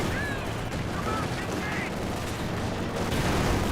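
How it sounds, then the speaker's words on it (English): Panzer IV tank cannon and battlefield gunfire in Company of Heroes 2, a dense steady rumble of explosions and shots with faint voices mixed in. "Panzer IV fires away, rolls missing the conscripts"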